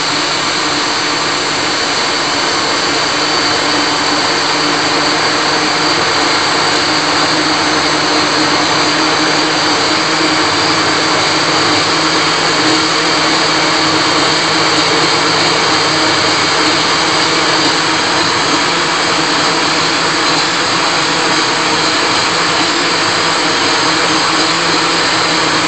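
A blender runs steadily at high speed, whirring loud and close as it blends a strawberry and banana smoothie with ice, the motor's roar continuous and even throughout.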